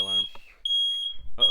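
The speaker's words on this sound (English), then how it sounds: "Oh, fire alarm." A smoke or fire alarm sounds a steady high-pitched beep, one long tone broken by a short gap, with a person talking briefly at the start and end.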